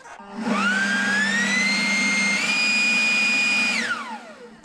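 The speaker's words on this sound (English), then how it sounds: "here's the battery powered Ryobi super duper blower I borrowed from him" A battery-powered Ryobi leaf blower whirs up to speed, holds a loud high-pitched whine with a slight step up in pitch midway, then winds down as it is switched off.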